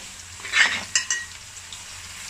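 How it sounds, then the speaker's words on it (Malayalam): Curry leaves dropped into hot oil for a prawn idiyappam biryani, a short burst of sputtering sizzle with a couple of spoon or pan clinks, then settling into a softer frying hiss. "അല്പം വേപ്പില ചേർത്ത് കൊടുക്കുക."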